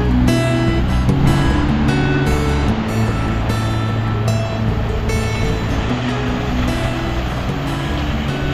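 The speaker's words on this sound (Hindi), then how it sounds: "ये है धरी वाटरफॉल, बहुत ज़्यादा हेवी है वैसे" Dhani waterfall in Kashmir's Neelum Valley pours heavily, a loud, continuous broadband roar of rushing water close by, steady for the whole stretch.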